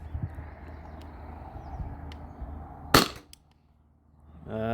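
One sharp shot from a CO2 air gun loaded with an Umarex CO2 cartridge and firing kinetic rounds, a single near crack over a quiet hum. A brief silence follows, then a rising hiss.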